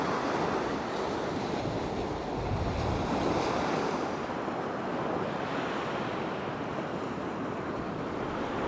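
Steady surf rolls in at Newton Beach in Porthcawl, South Wales, a continuous wash of breaking waves with wind buffeting the microphone throughout.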